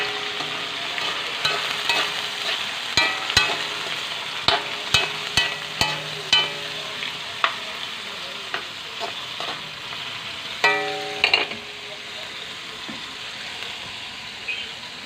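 Squid sizzles in a pan for pancit canton while a utensil stirs it, sharp clacking scrapes landing irregularly over a steady soft frying hiss.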